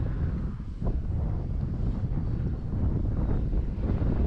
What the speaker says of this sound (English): the wind's not being very friendly